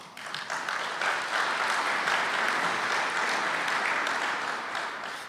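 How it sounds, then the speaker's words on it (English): An audience at a county government address breaks into sustained applause, a dense, even wash of clapping that swells quickly and holds steady, slightly tapering at the end. "it's kind of nice to get an applause"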